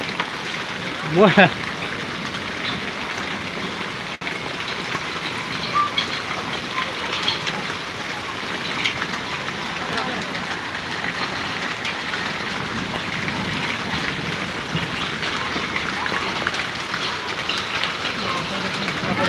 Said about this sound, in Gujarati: એ પાછા કરા પડવા માંડ્યા